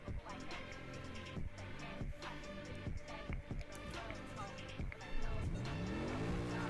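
A Mercedes in a racing video game revs and shifts through rising engine tones, with repeated sharp gear-change dips and a climbing whine near the end, while someone talks over it.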